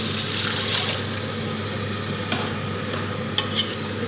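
Mutton achari gosht frying in a pan as water is poured in, with a steady broadband sizzle throughout, stirring scrapes and a few sharper clinks near the end.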